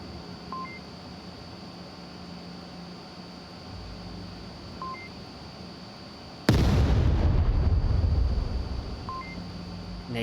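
A grenade goes off in the VR shooter Onward during a tournament match, one loud close blast with a rumbling tail that cuts through faint electronic beeps and steady game ambience.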